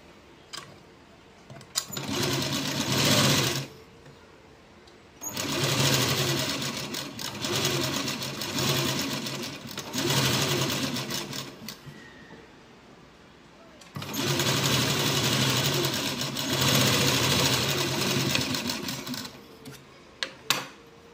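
A sewing machine stitches a blouse sleeve in several close, steady whirring runs of a few seconds each, separated by short pauses.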